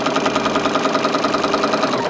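A sewing machine runs steadily while stitching quilted fabric scraps, a loud, close, continuous fast mechanical whir with an even rapid pulse and no pauses.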